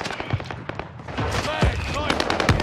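Rapid bursts of automatic gunfire in a first-person shooter video game, loud and dense, with sharp individual shots popping through, while a player talks over the action.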